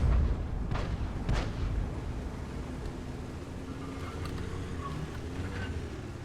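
A tier 9 tank firing HE shells in a tank video game: a heavy, booming shot right at the start, then a second blast, both fading into a low rumble.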